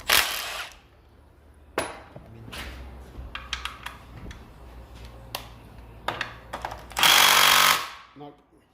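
A power tool works on bolts at the back of a SsangYong Musso engine, giving short rattling bursts of hammering and whirring with clanks of metal in between, ending in a louder sustained burst, close by.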